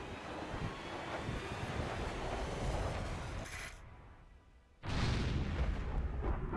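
Airstrike explosions in the Ghost Recon Future Soldier shooter game, a long rumbling roar of blasts and wind that cuts away, then a loud sudden explosion bursts in again, with no talking.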